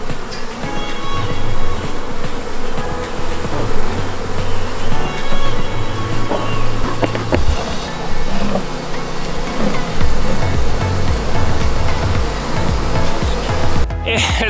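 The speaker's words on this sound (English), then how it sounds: "We have removed the bees safely. Not a bee was hurt." Honeybees being removed from a hive fill the air with a dense, steady drone and buzzing, loud and close, with a broad hiss of wind or rustling mixed in throughout.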